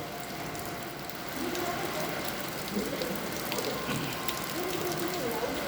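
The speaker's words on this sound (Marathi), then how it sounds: "पावसाचे तीव्रता आपण बघू शकतो पाण्याचे प्रेशर भरपूर आहे" Constant rushing wash of heavy monsoon rainfall and running water on 70 Foot Road, Madhav Nagar, fairly faint, with indistinct voices murmuring underneath.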